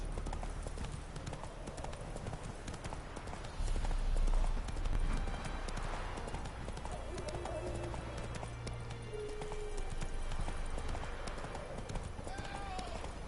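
Roach, a horse in The Witcher 3, clip-clops in a steady rhythm at a moderate distance over continuous game ambience, and a voice speaks briefly partway through.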